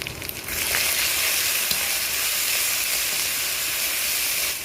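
Spice paste of ground dried chilli, cumin and coriander with salt and turmeric sizzles steadily in hot oil over fried onion and garlic for a mutton curry, a loud continuous hiss that swells in after a brief quieter start.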